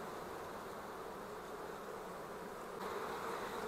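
Honey bees buzzing in a hive full of open and capped brood, a dense, steady, close drone that holds evenly throughout and swells slightly louder toward the end, with no voices.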